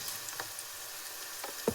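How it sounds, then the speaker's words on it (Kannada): Garam masala and turmeric powder fry in a pan for a spinach (palak) dish, making a soft, even sizzle close by with a few brief stirring scrapes and one sharper clink near the end. "ಚೆನ್ನಾಗಿ ಮತ್ತೊಂದು ಸಲ ಫ್ರೈ ಮಾಡ್ಕೊಳ್ಳಿ."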